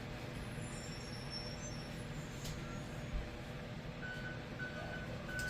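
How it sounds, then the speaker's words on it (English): A school bus idles and moves past with a low diesel rumble, a hiss of air brakes, and a string of faint reversing beeps toward the end, heard from a distance indoors. "School bus."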